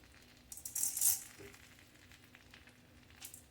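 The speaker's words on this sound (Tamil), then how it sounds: "சீரகம் போட்டு வதக்கிட்டு அப்புறம் நீங்கள் வந்து கொஞ்சம் மிளகு" Cumin seeds sauté in oil over low heat while making venpongal, giving a soft, brief crackling sizzle that swells for about a second and then settles into a faint, quiet hiss.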